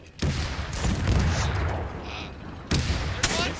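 Loud gunshots and booming blasts from the Arma 3 WW2 winter war setting, two heavy reports with a sustained roaring rumble between them, close and harsh, with faint voices in the mix.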